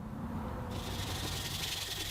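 Wood pieces of a handmade paper towel holder being sanded by hand toward 220 grit, a continuous soft rubbing scrape that brightens slightly partway through, quiet and close.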